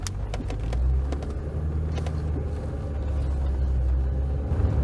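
A Lancia Delta HF Integrale drives along an open road at steady speed, its engine a low continuous rumble with road noise and occasional clicks inside the cabin.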